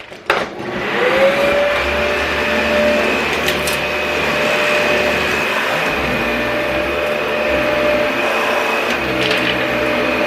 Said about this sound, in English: I gotta get back there with that vacuum.